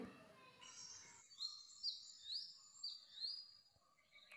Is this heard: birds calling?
yes